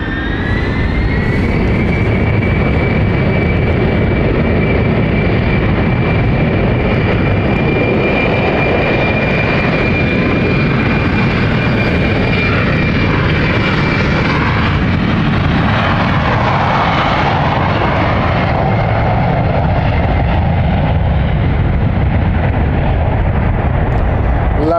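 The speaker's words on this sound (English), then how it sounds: "Lovely departure there from City Flyer." A City Flyer jet airliner departs London City Airport, its loud continuous engine roar with a high whine that drops away partway through as the jet climbs off.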